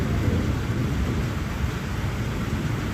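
A heavy evening thunderstorm outside a mosque: dense, steady rain pours down while low thunder rumbles continuously beneath it, loud and enveloping with no voices.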